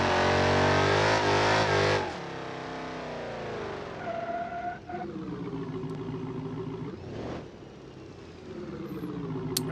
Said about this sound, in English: Alright, let's see how good of a Burnout it can do